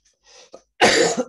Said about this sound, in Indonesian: Ada sedikit batuk